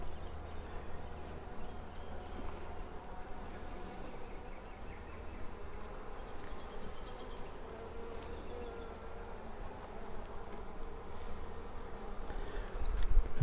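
Honey bee colony from a captured swarm buzzing during a hive inspection, a dense, steady, close hum that fills the whole stretch without talk.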